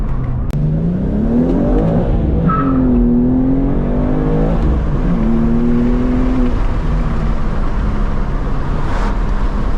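A manual BMW M2 accelerates hard from a 40 mph roll, its engine note climbing loudly through the revs, dropping at a gear change, then rising again, heard close from inside the car.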